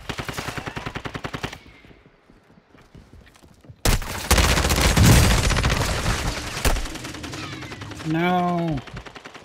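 Call of Duty gunfire from a shooter up on top, with rapid automatic bursts at the start, then a loud sustained barrage close by, followed by a brief high whine and a single spoken word.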